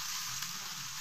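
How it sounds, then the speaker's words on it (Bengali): Fish fry pieces sizzle in hot oil, a steady, close, loud hiss of frying that holds evenly throughout with no talking. "তো এবারে আমি এই যে ফিশ ফ্রাইগুলো দিতে থাকবো, এই দেখুন একটা একটা করে ভাজবো।"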